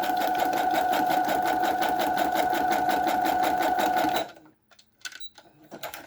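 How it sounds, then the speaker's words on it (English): Sewing machine stitching across the short top and bottom edges of a book-page pocket for a junk journal, running in a fast steady rhythm for about four seconds before stopping, followed by a few faint handling clicks. "So we're sewing across the short top and bottom edge."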